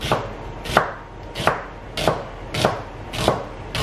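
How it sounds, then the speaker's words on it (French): An onion being chopped with a knife on a board, six evenly spaced crisp knocks roughly two-thirds of a second apart, close and clear with quiet room tone between them and no talking. "je vais couper le deuxième oignon"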